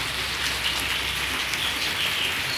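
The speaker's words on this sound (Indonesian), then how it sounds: "kita sambil hujan-hujanan ya" Steady rain falls outdoors in a continuous, even hiss of raindrops on surfaces, close and fairly loud throughout, with no talk.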